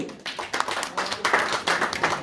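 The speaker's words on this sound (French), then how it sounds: "Vous pouvez l'applaudir également." A small audience at a literary conference applauds an author, with uneven, sparse clapping where individual hand claps stand out. The clapping rises and falls in loudness and stays close.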